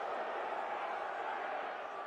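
A stadium crowd of about 8,000 at the National Complex in Saint-Pierre, during a Cameroon football match, keeps up a steady wash of jeering noise at the goalkeeper, continuous and fairly distant with no distinct peaks.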